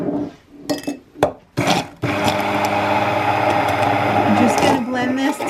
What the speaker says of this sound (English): And now we're ready to blend.